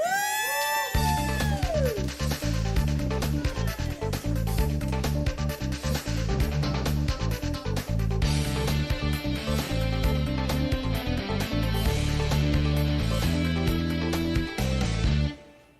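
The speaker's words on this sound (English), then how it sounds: "now you get to see him solo. Let's hear it for Harmonica Tony" A sustained, loud harmonica solo at an open mic, wailing reedy tones and dense harmonics, played continuously for about fifteen seconds before stopping abruptly.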